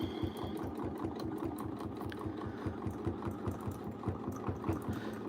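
A sewing machine stitches in the ditch during a quilting session, producing a quiet, even run of rapid rhythmic needle thumps that continues without a break.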